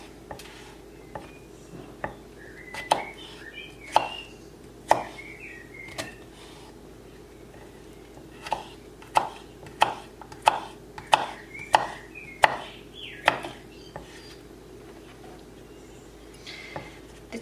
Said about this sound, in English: And then with each slice I'm just going to slice that into strips and then into small pieces as well.